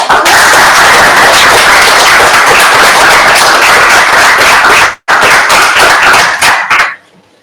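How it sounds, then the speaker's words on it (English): Vigorous audience applause after an academic lecture on ancient craftspeople and war, loud, dense clapping filling the room, a brief break, then the clapping tapering off into quiet. "so I'd like to ask for another round of applause for Natacha."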